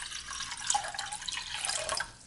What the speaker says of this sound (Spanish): Lo primero que vamos a hacer es poner a calentar 2 tazas y media de agua.